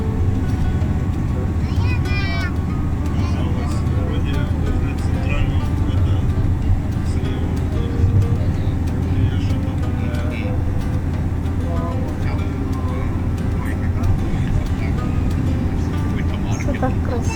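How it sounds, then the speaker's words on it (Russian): A vehicle drives back to a hotel on the roads of Egypt, heard from inside as a steady, continuous low engine and road rumble that holds at an even level throughout. "А это уже мы едем обратно в отель."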